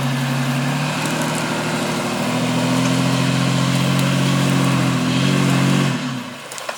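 A lifted third-generation Toyota Tacoma in four-high strains up a steep incline with its front tires spinning, the engine holding a loud, steady drone that builds and then drops off near the end.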